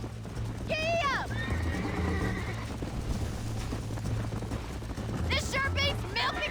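In Red Dead Redemption, horses gallop with rapid clip-clop hoofbeats and let out loud whinnies early and again near the end, all under a continuous game soundscape.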